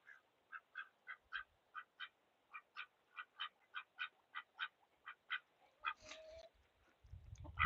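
Ducks quack in a steady series of short, evenly spaced calls at dusk as they are shut away for the night alongside chickens, fairly close and clear, ending with rustling and a brief low thump.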